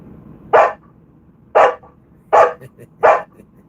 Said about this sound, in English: What sound does a dog make?